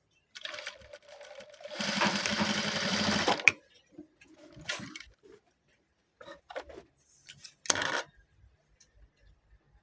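A sewing machine runs steadily for about three seconds while stitching a dress, then stops and leaves only faint handling and cloth noises, with a few brief bursts near the end.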